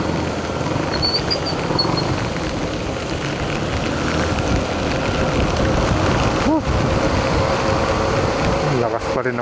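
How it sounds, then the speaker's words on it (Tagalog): Heavy monsoon rain pours during a ride along the Gapan-Olongapo Road in the Philippines, a loud, dense, steady hiss and roar that runs unbroken throughout, with a brief thump near the end. "Lakas pa rin ng ulan."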